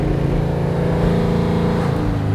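A 1969 Oldsmobile 442 engine pulling at about quarter throttle on a test drive, a steady, loud, low rumbling drone heard from inside the car with no talking.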